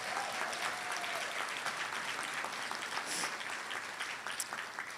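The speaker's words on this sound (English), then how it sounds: "How about a round of applause for our presenting sponsors?" Dense, steady applause from a large audience at a charity gala, sustained and even throughout with a few brief whistles rising above it.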